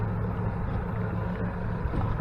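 A boat motor idles steadily near a bridge during fall crappie fishing, a continuous low rumbling drone with no breaks, close and moderately loud throughout.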